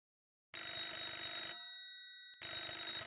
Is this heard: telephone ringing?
yes